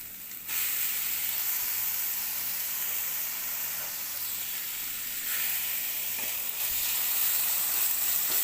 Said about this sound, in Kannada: ಟೊಮೆಟೊ ಹಾಕ್ತೀನಿ.